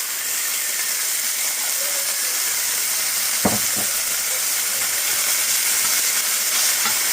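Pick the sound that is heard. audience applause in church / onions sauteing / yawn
onions sauteing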